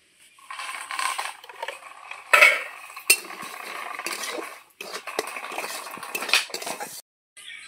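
A spoon stirring semolina frying in ghee in a wok for mango jalebi, giving repeated metallic scrapes and sharp clinks in an uneven rhythm, close and clear with no talking.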